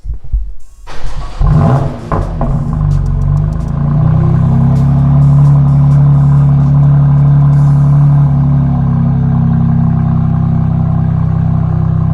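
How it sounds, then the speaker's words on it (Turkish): A Honda Civic Type R FK8 with an Akrapovic exhaust fires up with a rough burst, then settles into a loud, deep, throbbing idle from the exhaust, steady and close. "O zaman bir egzoz mu dinleyeceğiz?"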